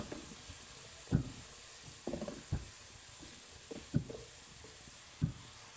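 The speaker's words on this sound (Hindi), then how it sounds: "अदरक लहसुन के पेस्ट को शामिल करने के बाद अब हम इसमें अपने शामिल करेंगे मसाले, और इनको अच्छी तरह से मिक्स कर लेंगे।" Spices fry with ginger garlic paste in a pan for aloo matar, a soft low sizzle punctuated by several sharp spatula taps and scrapes at irregular intervals.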